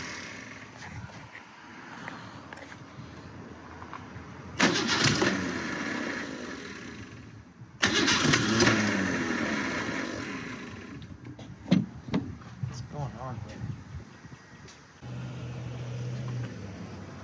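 An old car that sat for nearly 20 years is cranked repeatedly. Two long, loud bursts of churning starter and sputtering engine stand out over quieter stretches, followed by short uneven coughs and a low rumble near the end.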